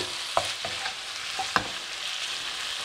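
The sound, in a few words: chilli stir-frying in a pan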